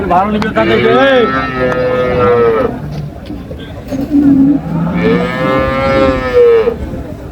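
Two long, loud moos from an improved-breed dairy cow at Ambari Haat cattle market in Dinajpur, each lasting a couple of seconds and separated by a pause, with background chatter from the crowd.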